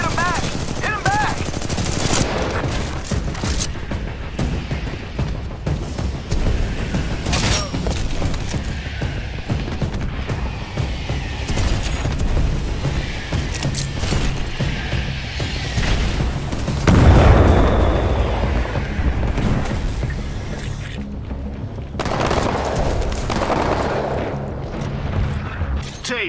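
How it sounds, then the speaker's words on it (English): Sustained gunfire and mortar impacts in the video game Titanfall 2, with rapid automatic fire, repeated booms and heavy thuds in a dense, loud firefight lasting throughout, with voices talking over the action at times. "Mortar specters are still hitting the harvester."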